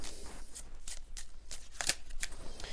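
An intuitive oracle card deck being shuffled by hand, a series of crisp, close riffling bursts repeating in quick irregular rhythm, with no voices.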